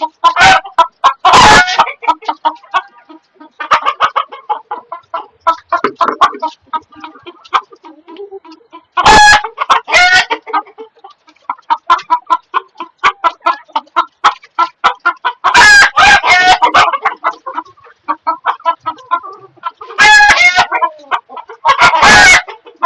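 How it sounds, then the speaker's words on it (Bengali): Chickens on a rooftop farm, including Serama hens and Kadaknath birds, cluck busily and crow loudly in repeated bursts, close by and with no talk. "সেরমা জাতের মুরগি আছে"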